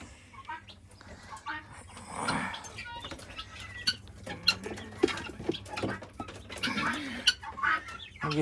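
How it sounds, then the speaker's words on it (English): Chickens and guinea fowl in a coop on a rainy day, scattered clucks and chirps mixed with pattering rain and a person's faint voice. "I got guineas on the top row and chickens on the top row, chickens on the bottom row, guineas on the bottom row."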